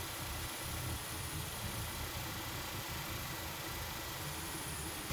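A Nissan Altima or Maxima engine idling during a coolant refill, a steady low rumble with a faint hiss, constant and fairly quiet throughout.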